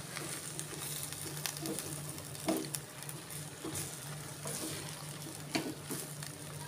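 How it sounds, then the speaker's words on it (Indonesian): Mustard greens are stirred into a pan of capcay vegetables, with a faint, low sizzle under scattered scraping and clattering stirs that come in a few sharper bursts. No one speaks. "Kita aduk sampai rata."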